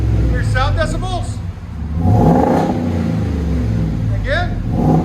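Deep, loud exhaust drone from a 7.3L gasser V8 in a Ford F-350 truck, stepping up into a strong rev after a brief lull, with someone talking briefly at the start and near the end.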